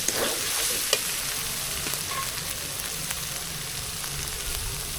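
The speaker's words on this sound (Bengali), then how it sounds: "এবার সামান্য একটু পানি দিয়ে মশলাটা আরেকটু কষা নেব" Spice paste sizzles steadily in a hot pan while being stirred, a continuous close frying hiss with light scraping and no talk.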